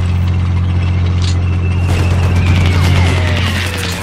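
A tank unit moves in the strategy game Gary Grigsby's War in the East during the Battle for Kiev, giving a loud, constant low rumble with rattling, crackling bursts layered on top.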